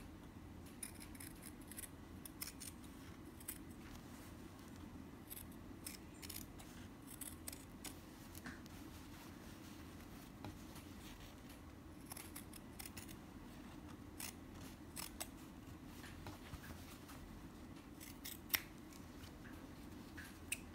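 Scissors snip through fabric while chair pouches are being made, a steady run of faint, sharp clicks scattered over a low hum, with no talking.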